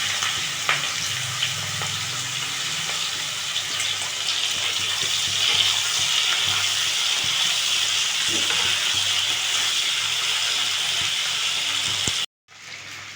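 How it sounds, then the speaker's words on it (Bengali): Fish frying all together in hot oil, a loud, steady crackling sizzle that holds for about twelve seconds before cutting off abruptly. "তেল গরম হয়েছে, মাছগুলো ভেজে নেব"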